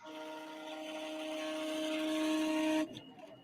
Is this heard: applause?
no